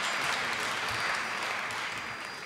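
A lecture audience gives brief, steady applause at a talk on vaccine obligations and freedom of choice, a soft continuous patter of clapping heard from a distance.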